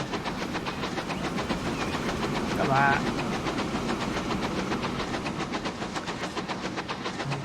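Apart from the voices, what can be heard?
goods train passing in video game Transport Fever 2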